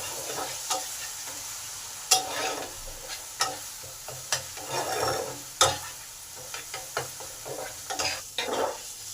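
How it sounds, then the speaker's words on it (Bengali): Ginger garlic paste sautéed in a pan for a masala omelette curry, with a soft continuous sizzle broken by repeated scraping and tapping of a spoon as it is stirred, close and moderately quiet. "এবার এই আদা রসুন বাটাটা খুব ভালো করে কষে নিতে হবে।"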